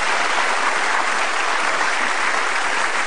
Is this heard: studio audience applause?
yes